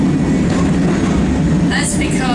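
A small single-truck, four-wheeled waterfront tram in New Zealand rolling along its track: a steady, loud rumble with rocking and rattling throughout, plus a brief higher squeal near the end.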